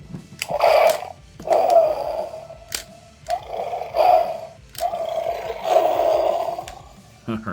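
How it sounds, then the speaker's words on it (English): A Battle Cat toy from the He-Man Masters of the Universe movie line lets out several electronic tiger roars and growls in short bursts, loud and close, with clicks and handling noise between them. "Alright, so he gets some tiger noises"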